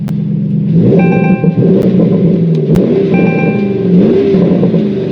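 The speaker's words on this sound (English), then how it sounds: "Exhaust valves open up, you can hear that clearly." Porsche Cayenne Turbo GT in Sport Plus mode with the exhaust valves open, revving in neutral: loud, deep exhaust blips rising and falling twice against a soft limiter, with a steady rumble in between.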